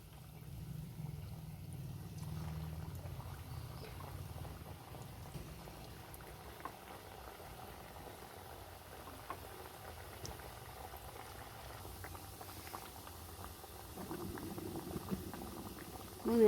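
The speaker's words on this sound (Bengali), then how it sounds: "মিষ্টিগুলো আমার দেওয়া হয়ে গেছে। আস্তে আস্তে ভাজতে হবে।" Flour-and-sugar sweets fry gently in warm oil in a wok, giving a steady low bubbling sizzle with soft crackles that swells slightly near the end; nobody speaks.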